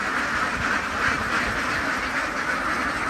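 Many ducks quack together inside a duck farm's laying house, a dense, continuous, fairly faint chorus with no single call standing out and no one talking.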